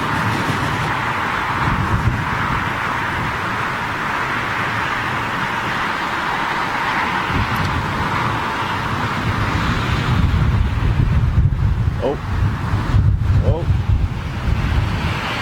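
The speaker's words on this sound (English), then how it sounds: "Bit gusty, bit gusty, bit gusty." Strong gusty wind buffets the microphone at London Heathrow airport, a loud continuous roar with surging gusts, while someone speaks briefly over it.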